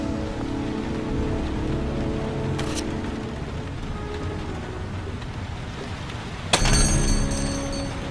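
Rain pours steadily in the video game Heavy Rain, a dense, even hiss that holds throughout, broken near the end by a sudden sharp metallic clatter.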